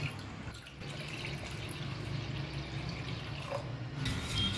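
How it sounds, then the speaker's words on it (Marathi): Water from a small pot goes into churned curd for chilled buttermilk, a steady, gentle splashing pour that runs continuously at a fairly quiet level. "त्याच्यामध्ये आता साधारणपणे 1 तांब्यावर पाणी आपण घालूया"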